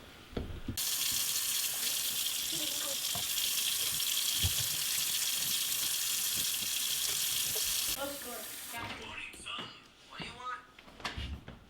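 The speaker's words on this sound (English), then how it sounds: "let's wash our hands now" Tap water runs steadily into a sink while hands are washed beneath it, a broad continuous hiss for most of the clip, then cutting off into scattered drips, splashes and handling sounds, with a voice speaking at moments.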